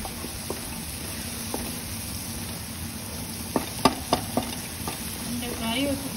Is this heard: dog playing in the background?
no